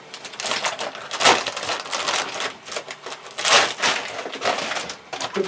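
A shrink wrap vacuum bag being cut open, giving a run of crisp crackling, snapping plastic bursts in uneven clusters, close and fairly loud, with no talk over it.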